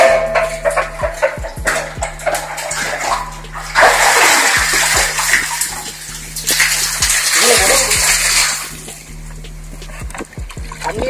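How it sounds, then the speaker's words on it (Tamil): Well water poured and splashed over feet before entering the Rameswaram Muneeswaran temple: long bursts of gushing, splattering water with drips in between, while people talk nearby. "கோவிலுக்கு போறதுக்கு முன்னாடி நம்ம கிணத்துல தண்ணியிலேயே காலு முட்டை கழுவிட்டு போயிடலாம்."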